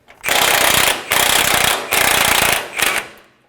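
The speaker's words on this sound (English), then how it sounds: "on the other side, we're going to use a 21mm socket just to get it loose" A 21mm socket on an impact tool loosening the lower control arm camber bolt on a Nissan Armada, with four loud, close rattling bursts of hammering, the last one short, separated by brief gaps.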